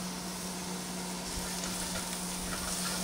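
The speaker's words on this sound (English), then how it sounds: "So right now we're going to saute a half cup of onions." Half a cup of onions sautés in a pan for marinara sauce, giving a dense, even sizzle over a low steady hum, close and continuous for a few seconds.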